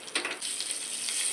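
Asafoetida and spices, including dried red chillies, garlic and chana dal, sizzling in hot oil as a tempering for a ridge gourd peel chutney, a steady close hiss of frying.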